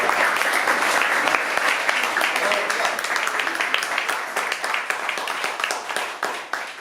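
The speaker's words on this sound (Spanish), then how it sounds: "Yo creo que este descubrimiento merece un aplauso." A lecture audience at a Camino de Santiago conference in Grau, Asturias, breaks into sustained applause, a dense wash of clapping from many hands that slowly thins toward the end.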